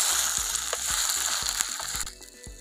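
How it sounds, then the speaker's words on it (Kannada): Ginger garlic paste frying in a pan for mutton sukka, a dense steady sizzle with a run of sharp spoon knocks and scrapes against the pan, close and loud, fading slightly near the end. "ಶುಂಠಿ ಬೆಳ್ಳುಳ್ಳಿ ಪೇಸ್ಟು ಚೆನ್ನಾಗಿ ಫ್ರೈ ಆಗಬೇಕು."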